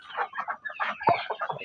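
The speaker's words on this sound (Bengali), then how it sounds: "দেখেন এভাবে মুরগি পালন করবেন।" Chickens clucking close by at a backyard poultry enclosure with ducks nearby, a steady run of short, overlapping clucks with one sharp louder call in the middle.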